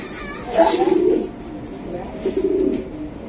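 A racing pigeon cooing close by, two soft throaty coos in a row.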